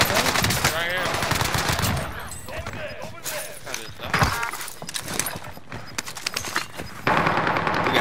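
Rapid automatic gunfire in Call of Duty Warzone on the Fortune's Keep map, loud bursts and single shots crackling in close succession, with players talking over the shooting.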